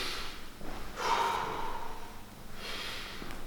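Slow, deep breaths taken during a side-bending stretch in a CrossFit workout: a few long airy inhales and exhales, close and fairly soft, with no talking.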